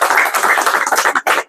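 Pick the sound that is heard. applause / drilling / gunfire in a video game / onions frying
applause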